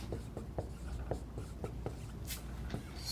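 A math definition about series is written out by hand, probably with a pen or marker, making soft, close scratching strokes in a quick, uneven rhythm over a quiet room.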